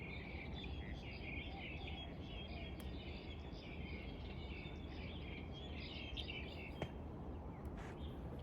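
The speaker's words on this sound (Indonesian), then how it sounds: "Denger nggak suara burung?" Faint birds chirping in the distance over a steady outdoor background hum, with occasional scattered tweets.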